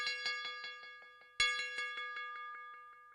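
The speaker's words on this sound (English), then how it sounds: "actually the usual church bell with the double octave technique" A church bell sample layered in double octaves rings out bright and metallic, each strike echoed by rhythmic ping-pong tape delay repeats that decay away, with a second louder strike midway restarting the bouncing echoes.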